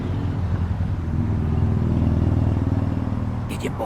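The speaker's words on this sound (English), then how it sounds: "I can hear them motorcycles moving." Motorcycles on a nearby road rumble steadily, their throbbing drone staying loud throughout the clip.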